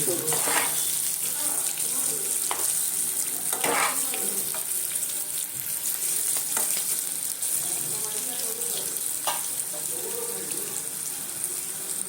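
Potatoes fry with turmeric in a pan, giving a steady, even sizzle throughout, broken by occasional clinks and scrapes of stirring.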